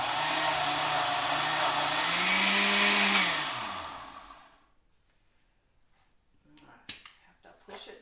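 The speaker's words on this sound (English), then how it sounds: "And you see what I'm putting in that blender?" A blender purees cooked pumpkin with a little water, a loud steady whirring for about four seconds that pitches down and winds to a stop, followed by quiet clatter and faint handling sounds.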